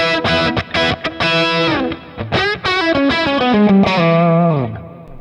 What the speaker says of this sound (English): Obviously more mid-range in Michael's 69 Marshall 50, 68 Purple Plexi, less mid.